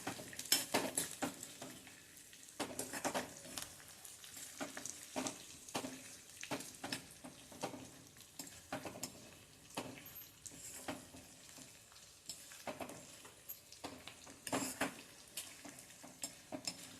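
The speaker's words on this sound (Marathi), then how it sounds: "तेवढंच 2 टेबलस्पून एवढं फुटाण्याचं डाळ. हे छान परतून घ्यायचंय." Split roasted chana dal is stirred in a pan for chutney, giving a faint, dry sizzle with scattered scrapes and light clinks of a spoon against metal, alone and fairly quiet.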